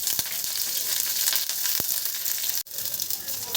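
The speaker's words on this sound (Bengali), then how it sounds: "তেলটা একটু গরম হলে আমি এখানে 5 ফোড়ন দিয়ে দিলাম আর দেব কাঁচা লঙ্কা।" Panch phoron spices and green chillies sizzle hard in hot mustard oil, a steady loud crackling hiss with a few sharper pops and one brief dropout near the end.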